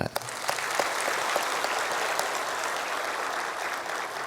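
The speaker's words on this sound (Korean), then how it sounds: "저 뒤에 보이지 않는데 사람들 박수 한번 해요." A church congregation gives a round of applause during a service: steady, moderately loud clapping from many hands that carries on evenly with a few sharper individual claps.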